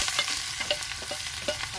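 Onion hits hot oil in a pan on a village chulha, producing a loud, close, continuous sizzle broken by small pops and stirring scrapes.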